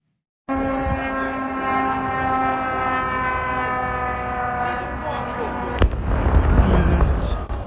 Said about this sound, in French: cette explosion que nous venons de voir